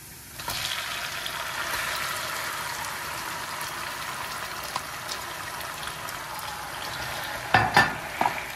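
Peppers sauté in a pan with pepper paste and garlic, a steady close sizzle running throughout with a few louder clatters of stirring near the end, no talk.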